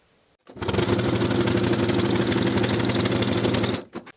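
A sewing machine top stitches straight across the yoke seam of carpenter pants with a 1/4 inch allowance, a steady rapid whirring run of about three seconds that starts and stops abruptly, close and loud.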